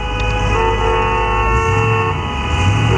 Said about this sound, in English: we got someone coming in even honking their horn